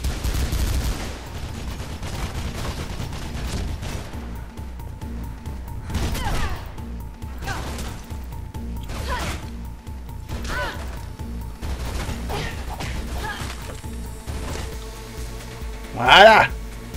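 Gunfire in the video game Mirror's Edge, scattered bursts and impacts with a crash near the end, mixed under game sound and people talking.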